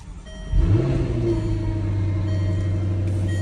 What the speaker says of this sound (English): We're just gonna keep the car running at the shop inside.